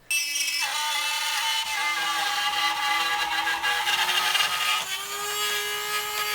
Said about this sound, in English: And then we took a Dremel, and I'm warning you, there's going to be some nasty sounds coming from it.